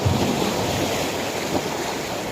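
Sea waves wash steadily onto the beach at Ternate, Cavite, a continuous roaring surf mixed with gusty wind noise on the microphone, with no voices.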